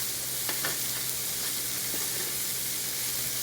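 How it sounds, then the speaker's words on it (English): Sweet potatoes frying with chorizo, maple bacon, onions, garlic and peppers in a breakfast hash give a steady, close, full sizzle, with a few faint stirring scrapes on top. "We're just going to add in our sweet potatoes from earlier."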